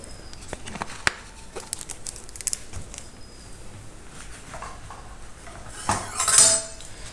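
A metal spoon clinks and scrapes against a dish while chickpea dal ingredients with mixed vegetables, spices and mustard oil are worked together, giving irregular close taps and scrapes with a louder rattling burst near the end.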